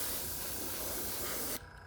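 An airbrush spraying thinned pearl paint onto a swimbait lure, a steady close hiss of air and paint that cuts out briefly near the end, then resumes.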